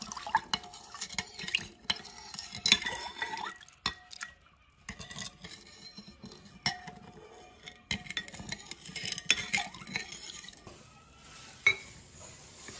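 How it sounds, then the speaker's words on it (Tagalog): A pickled mango mixture is stirred in a bowl, with irregular scraping, wet sloshing and clinks of utensil against glass or metal at close range, and no talking. "Tapos po ay halo-haloin na po natin."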